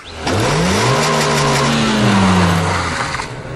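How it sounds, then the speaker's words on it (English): A 2013 Renault Twingo 133 starting up and revving, the engine rising through gears with a rude, raspy exhaust note, close and loud, with no voices. "as soon as a twisted the ignition key rewards you with a decidedly rude exhaust note"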